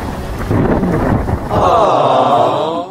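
Rain pours steadily in a loud, continuous wash with a low rumble of thunder underneath, close to the microphone and buffeted by wind, with a higher tonal hum rising in the second half.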